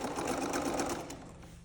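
A sewing machine runs a seam through a minky blanket with light blue thread, a close rapid stitching chatter that slows and fades at the end.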